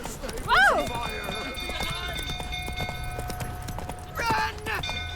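Roach, Geralt's horse in The Witcher 3, galloping with steady clip-clop hoofbeats and a whinny, while horse and rider voices with shouting sound over a busy game soundscape.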